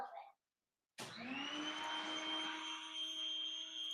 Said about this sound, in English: There's literally a vacuum in the background.